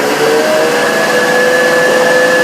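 A Pro 1200 Sapphire engine idles low after start-up, a steady continuous drone with faint tonal whine lines, close and loud, running alone without talk.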